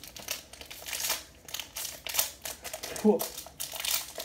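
Mario 64 game packaging for the Nintendo 64 being opened by hand, with loud bursts of crinkling and tearing plastic and cardboard repeating close up, and a short exclamation from a person partway through.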